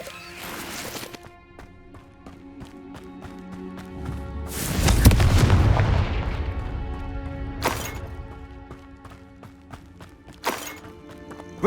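Confringo blasting spell in the video game Hogwarts Legacy erupts in a loud, rumbling burst midway that slowly fades, preceded by quieter game sounds and followed by a couple of sharp impacts.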